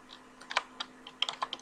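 A child tapping keys on a computer keyboard during typing practice, a handful of light, irregular clicks and short bursts of keystrokes, quiet and close, with no talk.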